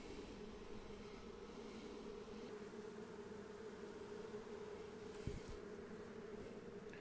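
Honey bees and drones droning steadily at an open hive, a dense, continuous low buzz that stays even and close throughout, with one brief faint knock near the end.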